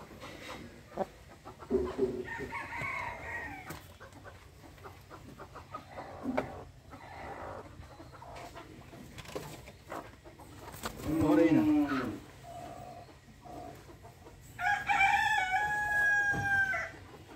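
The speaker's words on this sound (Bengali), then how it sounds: "কত বড় দেখতে পাচ্ছেন দর্শক, কত বড়, বিশাল বড় মুরগি" A large chicken in a farmyard clucking in short bursts, then a loud crow near the end, with background rustling and voices nearby.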